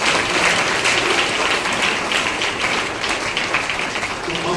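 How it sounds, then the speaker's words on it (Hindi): A church congregation at a Thursday prayer meeting claps loudly and continuously in praise, a dense wash of many hands filling the room for several seconds. "ताली बजाओ जोर से उसकी तारीफ करो।"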